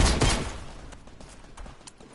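Gunfire in a multiplayer shooter game, a burst of loud close shots at the start followed by fainter scattered distant pops trailing off over a couple of seconds.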